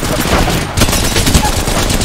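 Rapid bursts of automatic gunfire fill a round of the video game Apex Legends, loud and dense throughout with no pauses, and the game sound runs continuously.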